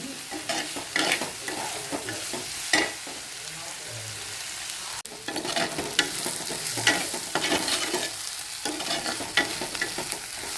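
Masala for an egg curry sautés in a pan with a soft, close sizzle, broken by repeated scraping stirs and a brief pause midway, with little other sound.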